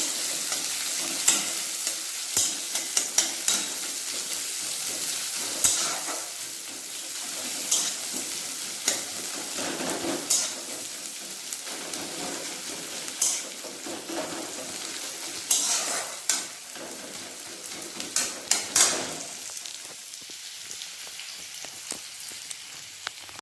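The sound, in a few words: chopped onions frying in a pan until brown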